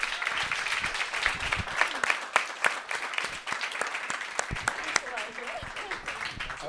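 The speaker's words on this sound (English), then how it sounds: "Big round of applause for everybody here." An audience at a future of food systems event gives a warm round of applause, with irregular sharp claps and scattered cheers, while a voice speaks faintly near the end.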